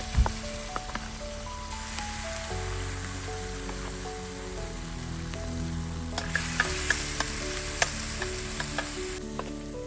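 Prawns frying in a pan at a bush campsite, a steady sizzling hiss under a sustained tonal hum from the stove, with a few sharp clicks and pops scattered throughout.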